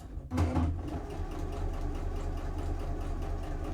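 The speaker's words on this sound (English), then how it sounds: "I'm just going to sew some stitches to check that everything is okay" Sewing machine on a medium-to-long stitch length running through layered fabric and wadding for a tie-shaped keyring, a steady close motor hum with a fast stitching rhythm that starts after a brief pause and continues evenly.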